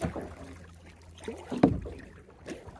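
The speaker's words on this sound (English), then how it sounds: "I'm paddling upstream on the CHOCTAWHATCHEE" A kayak paddles upstream on the Choctawhatchee River in Florida. Soft paddle strokes and water swishes are heard close by, with one louder splash-like knock in the middle and light wind in the background.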